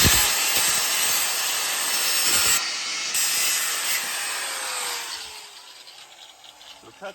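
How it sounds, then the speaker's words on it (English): A one-handed angle grinder cuts metal on an S52 turbo BMW E46 near the brake caliper, giving a loud, steady broadband hiss and whine that briefly dips, then winds down and fades toward the end. "One-handed angle grinder,"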